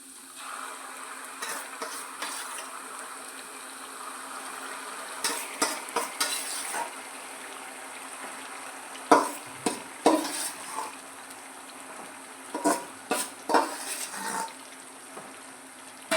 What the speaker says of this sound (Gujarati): આપણે આ શેકેલો ઓળો નાખી દઈશું